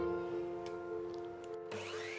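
A running table saw hums with a steady tone, then its pitch shifts sharply as the blade cuts into a 15mm HMR board near the end, fairly quiet and without voices.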